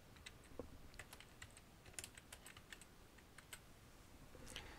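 Quiet, steady tapping on a computer keyboard as text is entered, a string of light distinct clicks with short pauses, faint and close over a soft hiss.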